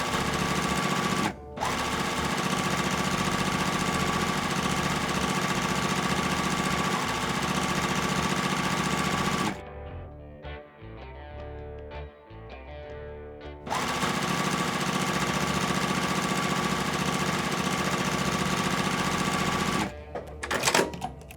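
Sewing machine stitching rows of a pixel-bloom quilt together, a loud steady motor whir running in long continuous bursts, with a brief pause near the start and a quieter break in the middle.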